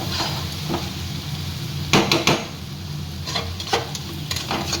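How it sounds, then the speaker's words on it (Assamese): Onions crackle and sizzle in a hot pan, with a few sharp scraping stirs of a spatula against the metal. "এতিয়া পিঁয়াজখিনি ভালদৰে ভাজি ল'ম।"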